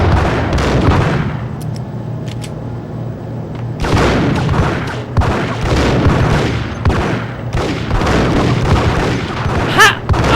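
Grenade explosions in the Max Payne video game, several loud, close booms in bursts with heavy rumbling tails and brief gaps between blasts.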